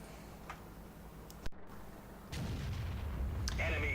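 A World of Tanks FV215B tank gun fires once with a sharp loud crack, followed by quieter game clicks, a low engine rumble and a rising whine.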